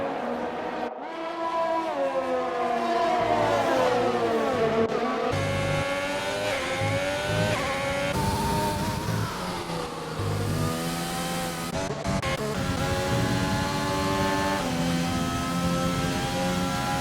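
Formula 1 race cars, two McLarens running close together at a Spanish Grand Prix, fill the air with a loud, continuous high-pitched engine whine that climbs and falls through gear changes and accelerations, with no voices over it.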